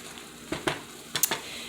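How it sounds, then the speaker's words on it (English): A spoon stirs hot wing sauce in a heated pan, giving a soft steady sizzle with a few quick scraping strokes, close and alone. "we're going to give it a stir"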